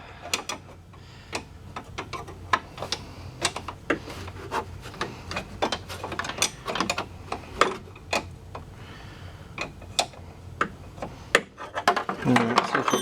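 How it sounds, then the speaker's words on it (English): Wrenches ratcheting and clicking on bolts while mounting an aluminum winch fairlead on an ATV, with irregular close metallic clicks and clatter spread through the whole stretch. "So I'm just working the wrenches."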